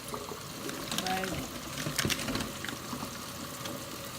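Water poured into a pan of hot oil while cooking, a bubbling, sizzling rush with watery splashes under a person talking, moderately loud and close.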